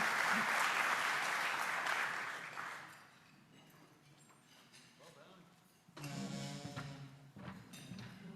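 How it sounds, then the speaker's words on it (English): Audience applause for guests at a Rotaract club weekly meeting, loud and dense at first, then fading to scattered claps before a second burst of clapping mixed with voices near the end. "Would you please give all of our guests a nice round of applause?"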